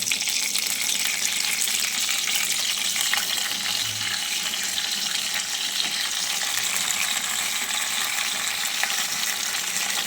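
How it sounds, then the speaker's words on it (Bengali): Bottle gourd leaves frying in hot oil in a home kitchen pan give a steady, dense sizzle that runs unbroken for the whole stretch, close and even, with no voices. "এবার তেলটা গরম হয়ে গেছে, লাউ পাতা দেব।"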